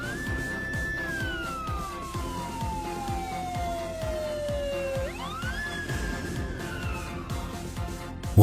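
A box ambulance siren wails in a slow, single sweeping tone that falls gradually then rises sharply again, loud and continuous over a low engine drone, with no talking.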